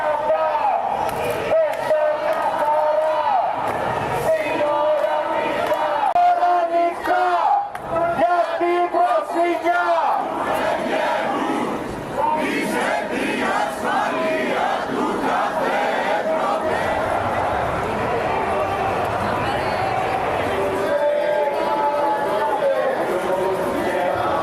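Protesters carrying placards and banners chant slogans loudly while clashing with police. Shouts and raised crowd voices fill the scene continuously, with a voice speaking over the din throughout.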